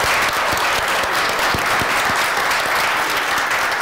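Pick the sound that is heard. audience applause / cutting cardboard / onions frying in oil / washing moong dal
audience applause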